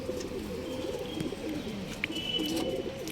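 Pigeons of a good breeding stock, kept for sale, coo repeatedly in low, throaty rolling phrases close by, with faint chirps from other birds over a steady background hum and no talking.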